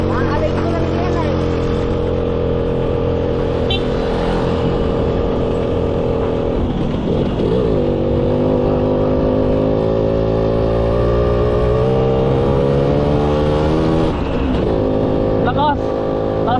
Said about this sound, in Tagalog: Lakas. Lakas ng makina.